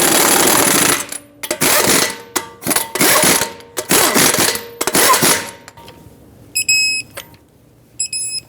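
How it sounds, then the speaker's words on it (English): Impact wrench tightening lug nuts on a Dodge Durango wheel in several loud, close bursts of rapid hammering, separated by short pauses, followed by quieter rattles and a few high electronic beeps. "start on all 5 lug nuts, bottom them out in a cross pattern"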